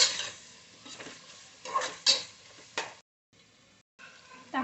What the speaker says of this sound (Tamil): தக்காளி நல்லா வதக்கிக்கணும்